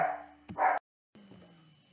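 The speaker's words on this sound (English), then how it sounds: "Hold on, dog barking." A dog barks twice in quick succession nearby, followed by a short silence and faint room noise.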